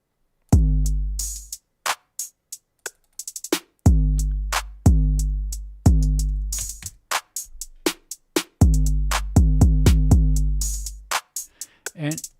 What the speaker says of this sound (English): So Glory is like trap and hip hop stuff.